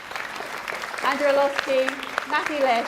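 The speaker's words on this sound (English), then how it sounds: "a big round of applause" Audience applause at a Conservative Party conference session, steady clapping from the hall running under a speaker's voice reading out names.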